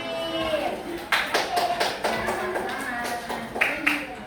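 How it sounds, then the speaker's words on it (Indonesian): A small primary-school class claps for a student in a classroom, a few scattered bursts of hand claps, close and uneven, mixed with faint talk and movement. "Oke, tepuk tangannya buat Fir."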